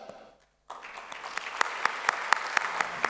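Audience applause greeting a speaker at a health and wealth talk event, starting abruptly after a brief hush and building into steady clapping with a few sharper individual claps standing out near the front.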